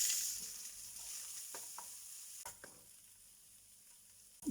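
Fennel seeds, cumin seeds, bay leaves and ginger garlic paste fry in a pan with a soft, steady sizzle, close by, broken by a few quick scrapes of stirring.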